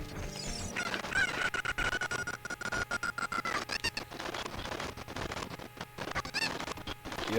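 Cucco chickens in Zelda: Ocarina of Time squawk and cluck in a busy, dense game soundscape, with a long drawn-out cry and repeated sharp bursts, loud and chaotic.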